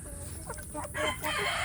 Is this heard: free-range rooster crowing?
yes